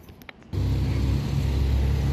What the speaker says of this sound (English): You've just got to watch yourself for this traffic when you're walking along here